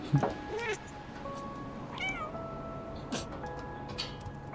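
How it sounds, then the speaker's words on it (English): Cat meowing in the video game Stray, several distinct meows spread across a few seconds over a faint game ambience, fairly close and clear with no talking. "Come on, kitty, we can get through this."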